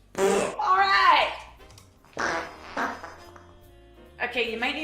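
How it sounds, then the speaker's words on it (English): A short, buzzy fart rips out near the start, followed by people talking and reacting nearby in a casual sports talk setting. "It was just a fart, dry as a bone"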